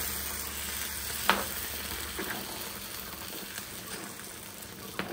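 Kachil erissery, a purple yam and coconut curry, is stirred in a pan on a stove, giving a steady soft sizzle with a few faint spoon clicks against the pan and no talking.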